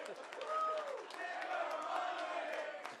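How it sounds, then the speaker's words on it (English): A stadium-style crowd lets out a sustained roar of cheering and whooping with shouted voices mixed in, steady and loud for the full few seconds, marking an Austin FC announcement. "That's a cheer I haven't heard before."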